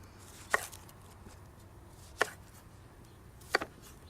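A knife chops through a quarter onion on a cutting board, making three sharp, distinct thuds spaced well apart against a quiet background.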